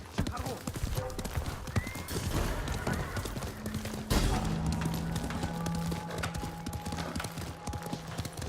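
Hooves clop in a fast, steady gallop while a horse neighs in the video game Ghost of Tsushima, with low thumps and a voice talking over it.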